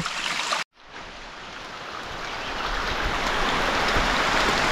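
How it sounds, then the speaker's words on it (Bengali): Babbling mountain stream in a reserve forest in Bandarban, with rain falling, a steady broadband rush of flowing water that swells slightly louder over a few seconds after a brief silent cut near the start. "এই যে ঝিরি কলকল আওয়াজ শোনা যাচ্ছে"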